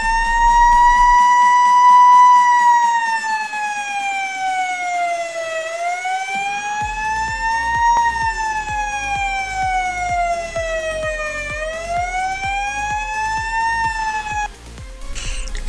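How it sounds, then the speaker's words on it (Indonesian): Homemade electronic siren circuit built on a breadboard, wailing loudly in continuous rising and falling sweeps, steady and close with no talking. "ketika saya coba, ternyata sudah bisa menghasilkan suara sirine"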